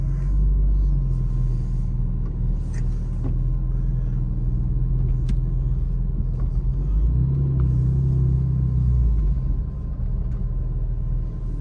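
Steady low engine rumble and road noise from a Porsche 911 cruising on a snowy road, heard from inside the car, with a slight swell in engine tone partway through and no talking.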